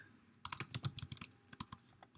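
Rapid, uneven keystrokes on a computer keyboard while text is entered into a website form, close and fairly quiet, in a short burst of clustered clicks followed by a few scattered taps.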